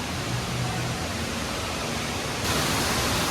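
An indoor waterfall inside a large casino gives off a steady, dense rush of falling water, continuous and fairly loud, growing brighter toward the end with no voices heard over it.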